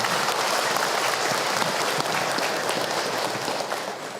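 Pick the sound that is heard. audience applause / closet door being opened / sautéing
audience applause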